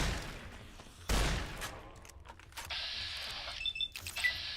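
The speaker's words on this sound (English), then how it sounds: "Let's caravan shotgun him." Caravan shotgun fired in Fallout New Vegas, a sharp loud blast followed by clicks and a reload-like mechanical clatter amid game sounds, no talk.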